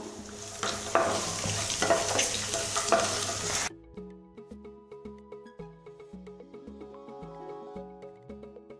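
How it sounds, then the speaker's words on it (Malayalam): Chopped onion, green chilli, ginger and garlic sautéed in a pan for tomato rice: a few seconds of loud sizzling with spoon scraping, then the frying noise drops away abruptly, leaving only faint pan sounds. "ഒരു ബ്രൗൺ കളർ ആവണ വരെ നന്നായിട്ട് വഴറ്റി കൊടുക്കാം"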